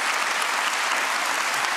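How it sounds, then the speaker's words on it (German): A late-night TV studio audience in Berlin applauds steadily, a dense, continuous wash of many hands clapping, loud and close, with no talking over it. "dafür gerne einen Applaus"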